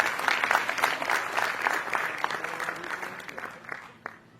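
A crowd at a motivational speech bursts into applause, sharp individual claps that start dense and loud and then thin out and fade toward the end.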